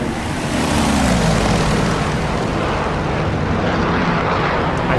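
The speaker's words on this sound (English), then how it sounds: "I hear jets." Aircraft engine noise from the DCS World flight game fills the mix, a continuous broadband roar with a low drone that shifts slightly in pitch as a plane passes, loud and steady, no talk.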